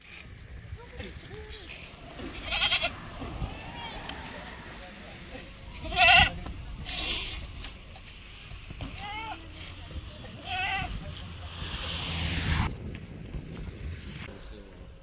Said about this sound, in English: goats climbing Argan trees.